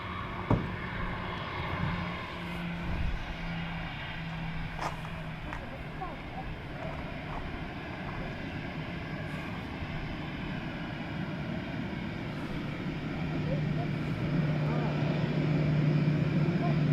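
A steady, loud roar from an arriving Aer Lingus airliner at Dublin Airport, heard from an outdoor planespotting spot as continuous broadband engine noise that swells slightly toward the end, with voices faintly in the background.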